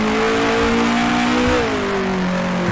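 Race car engine from the 1966 German Grand Prix in the Grand Prix Legends game, a loud, close, buzzing drone held at steady revs that dips in pitch midway as the driver eases off, with no talking.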